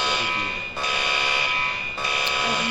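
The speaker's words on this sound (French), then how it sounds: "Oh, par contre, l'alarme là," Alarm ringing loudly and continuously as a harsh buzzing tone, with two brief dips in the sound, close and steady with no talking.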